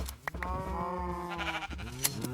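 A Minecraft sheep gives a single drawn-out bleat, a wavering nasal baa at moderate distance, rising and trailing off over a couple of seconds, with no talking.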